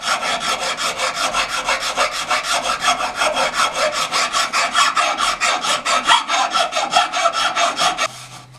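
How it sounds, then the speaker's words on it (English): Rasp and file shaping the flat side of a wooden smartphone amplifier body, a steady run of quick rhythmic scraping strokes, close and loud, ending abruptly near the end. "One has been done by the rasp and the file"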